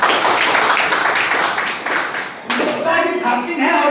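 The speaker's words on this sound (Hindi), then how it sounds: "किसी को नींद लगा था, ताली बजा दे" An audience at a motivational talk breaks into dense, crowded applause for about two and a half seconds. A voice then speaks over the fading claps.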